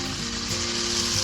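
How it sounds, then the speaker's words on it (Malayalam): A spoonful of neyyappam batter drops into boiling oil in a cavity appam pan, giving a loud, continuous, close-up sizzle and crackle that holds steady throughout with nothing else heard. "നല്ല തിളച്ച എണ്ണയിലേക്കാണ് നമ്മൾ ഇട്ട് കൊടുക്കുന്നത്."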